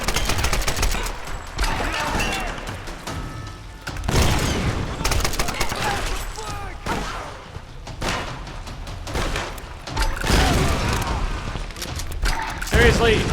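Repeated gunfire bursts and heavy grenade blasts from a Tomb Raider (2013) firefight, loud and dense across the whole stretch, with sharp thumps and crackling volleys overlapping almost continuously.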